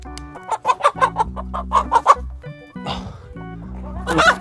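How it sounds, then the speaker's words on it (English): Chickens on a ranch cluck in a busy series of short, loud bursts while they are being handled, then a pause, some rustling and another squawk near the end. No one speaks. "I'm not a good chicken handler."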